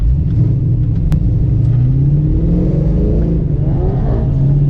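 A Kenne Bell supercharged 5.0 Foxbody Mustang idles with a loud, steady, deep rumble heard from inside the car, a continuous low throb with slight wavering in pitch.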